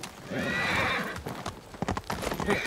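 A horse's hooves clip-clop at a gallop, broken by a loud whinnying neigh, in the feudal-Japan game Ghost of Tsushima, set against game ambience.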